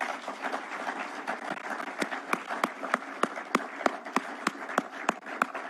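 An audience at a Kenyan gathering claps for an electoral commission chairman and commissioners, a soft background patter joined by a run of loud, evenly spaced claps from someone nearby.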